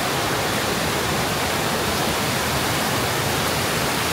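Steady broadband rush of the flowing Sungai Selama river at a forest campsite, a dense unbroken roar of moving water filling the scene with no voices.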